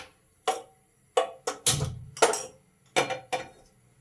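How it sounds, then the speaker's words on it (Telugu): A pressure cooker is set onto a gas stove, giving a series of sharp metallic clanks and knocks, about seven distinct hits spaced irregularly, close and clear against near silence. "ఇప్పుడు గ్యాస్ ఆన్ చేసి కుక్కర్ పెట్టుకుందాం."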